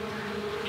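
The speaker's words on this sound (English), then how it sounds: "These are called fuzzy foot bees." Fuzzy foot bees buzz close and loud at a farm, a steady droning hum sustained without a break and with no voices over it.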